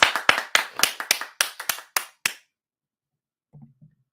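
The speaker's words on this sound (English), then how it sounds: "Can we get him a round of applause?" A small group claps for Brutha Rick, about ten sharp, distinct claps in a slightly uneven rhythm, close and loud, then stopping, followed by brief faint murmuring.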